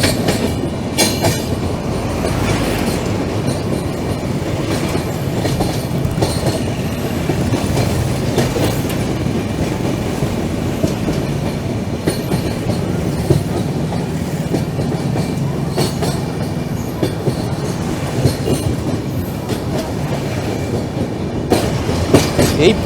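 Passenger train on the Siliguri to Kolkata run, near the Farakka dam and bridge, rolls steadily on its rails with a continuous loud rumble and rhythmic clickety-clack of the wheels, no voices.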